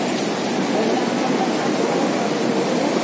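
Floodwater rushing along flooded Araneta Avenue after heavy rain: a steady, close, broadband wash of moving water with no clear pauses and no distinct voices.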